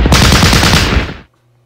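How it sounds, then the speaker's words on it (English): Machine gun fire in a WWII strategy video game set during Operation Market Garden: a loud, dense, continuous burst of rapid shots for just over a second, then cutting off to near silence with a faint low hum. "Machine gun guys, shoot!"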